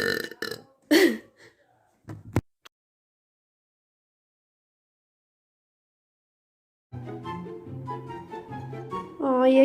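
A woman lets out several loud, raspy burps in quick succession, followed by a long silence. Her voice then returns, talking near the microphone.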